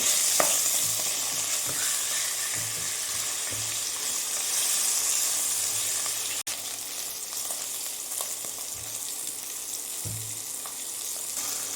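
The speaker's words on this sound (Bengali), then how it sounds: "মাছগুলোকে উল্টে পাল্টে ভেজে নেব।" Catla fish sizzles steadily in oil, a constant close hiss punctuated by soft knocks and scraping as pieces are turned in the pan.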